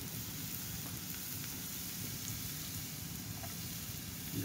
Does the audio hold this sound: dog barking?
no